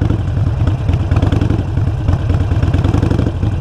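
A motorcycle engine running in first gear gives a loud, close, steady low throbbing chug with a rapid pulsing rhythm and slight mechanical clatter, with no voices.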